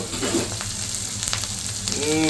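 Hilsa fish sizzling and frying in hot oil, a steady close crackle with a low hum beneath and faint scraping of stirring, no voices.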